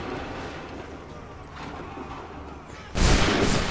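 A ragged volley of massed musket fire from soldiers on command in Assassin's Creed 3 erupts loud and broadband near the end, after a stretch of rumbling battlefield din.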